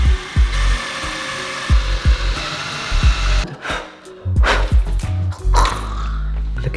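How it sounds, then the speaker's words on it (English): Power drill boring pilot holes into garage wall studs for a pressure washer mount, a run of sharp rhythmic bursts at first, then a few louder whirring drill spins, close up, no talk. "Now we're gonna be making pilot holes."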